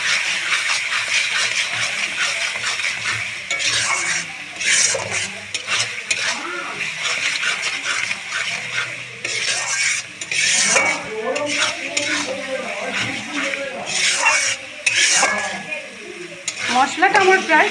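Spice masala with salt, cooking down for a mutton curry, sizzles steadily in a pot while a metal spoon stirs and scrapes briskly against the sides, loud and close, with frequent clatters.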